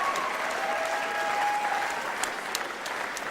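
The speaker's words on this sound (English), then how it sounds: "also the crowd tells us whom they have in favor, and the crowd tells us maybe the result." Boxing match crowd between Aleksy Kuziemski and Igor Mikhalkin applauding steadily, a dense, continuous wash of clapping that stays loud throughout with a few sharper claps standing out near the end.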